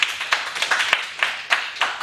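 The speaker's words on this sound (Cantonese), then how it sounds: "俾啲掌聲呢個同學真係不得了" A small classroom group claps for a student at an information day, a loose patter of handclaps building over about two seconds with uneven, scattered beats.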